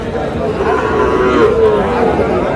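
A Sahiwal bull calf gives a long, loud moo at a busy cattle market, close by, with crowd chatter and voices around it.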